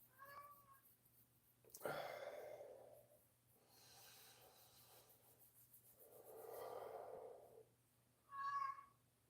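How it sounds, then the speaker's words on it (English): A cat meowing mournfully in a quiet room, several drawn-out, faint cries spaced a second or two apart, close and alone with no talk. "Meow, mournful meows."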